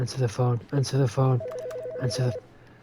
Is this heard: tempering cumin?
no